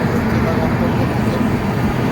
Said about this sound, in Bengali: ট্রেন শুরু হয়ে গেছে চালু হয়ে গেছে আমাদের ট্রেন যাচ্ছে